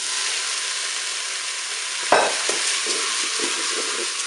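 Rice tipped into vegetables frying in a Cookeo multicooker: a steady hiss of sizzling oil, then a sudden rustling pour and stirring scrapes joining the sizzle partway through.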